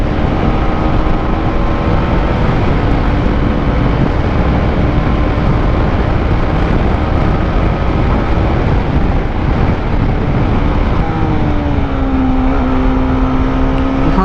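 A motorbike engine drones steadily throughout while riding, loud and continuous with wind noise and a rising pitch near the end as it speeds up, no talk.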